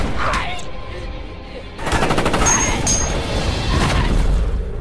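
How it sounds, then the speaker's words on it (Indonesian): Machine-gun fire in a monster film scene, rapid bursts of loud gunshots rattling in a dense volley, mixed with crashing impacts and other action noise. "akhirnya Krang berusaha membalasnya dengan memberondongkan senjata ke arah monster itu"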